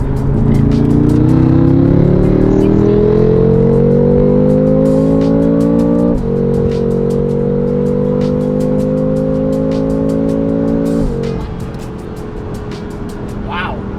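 A BMW F10 M5 carrying about $10,000 in performance modifications pulls hard from 50 mph, its engine roaring loud and close as the pitch climbs through two long gears with a sharp shift between them before easing off.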